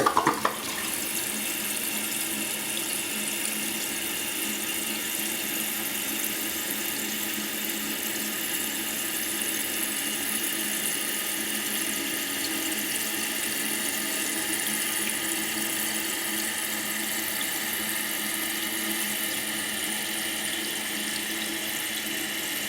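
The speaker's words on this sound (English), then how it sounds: "we'll go ahead and flush, and we can check the refill" A household toilet flushes and its full tank refills, a steady loud rush of running water that starts with a brief surge and continues evenly for over twenty seconds with no voices.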